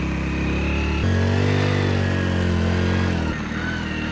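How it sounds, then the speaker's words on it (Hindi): Motorcycle engine labouring as the bike rides through sand near a river, a steady loud close drone that rises in pitch midway and holds for a couple of seconds before dropping back. "रेत में गाड़ी चल भी नहीं रहा है।"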